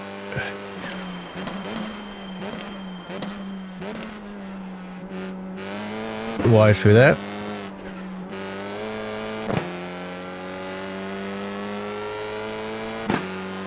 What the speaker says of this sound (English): The exhaust sound on this car is amazing.